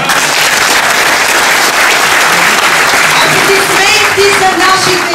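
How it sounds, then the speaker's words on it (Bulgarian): Audience applause at an evening cultural event honoring the Bulgarian-Arab Cultural Center, steady dense clapping filling the room, with some cheers or voices rising near the end. "аплодисменти за организаторите на тази незабравима вечер, Българо-арабският културен център."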